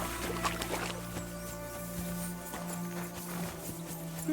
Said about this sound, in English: Lovely horses you have here